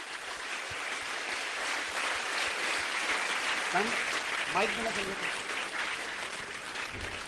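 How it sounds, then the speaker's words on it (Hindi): An audience at a Jain monk's twelfth initiation-anniversary ceremony in Ujjain claps steadily and densely the whole time, and a voice rises briefly over the continuous applause. "एक बार हाथ उठाकर जोरदार तालियां"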